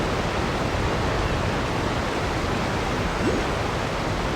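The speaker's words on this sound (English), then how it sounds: "Oh, the sound of the water fountain." Water fountain from the video game Genshin Impact, a steady rushing splash of falling water that stays even and continuous throughout.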